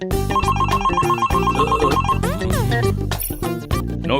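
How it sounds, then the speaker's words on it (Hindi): A phone rings with a bright electronic ringtone melody, loud and continuous for several seconds. "फिर फोन कैसे बज रहा है?"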